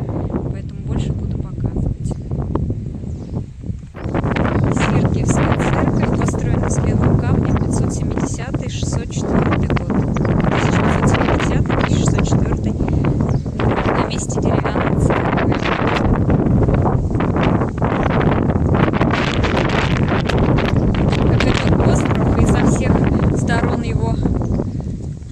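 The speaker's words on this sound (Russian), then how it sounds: "ветер очень сильный" Strong wind by the water on Sviyazhsk island, Russia, roars and buffets the microphone almost nonstop, loud and close, while a voice talks underneath.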